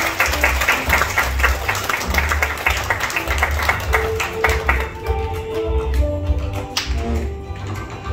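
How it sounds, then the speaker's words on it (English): A crowd claps for a young performer after a piece at a performance event, a bright rapid patter of hands over a low rumbling hum that thins out and tapers toward the end, with a few scattered claps remaining. "So can we give him another big clap?"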